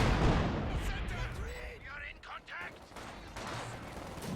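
In the Company of Heroes 2 video game, tank gun shots and other battle gunfire rumble and crack, loud booms under a busy mix with speech present.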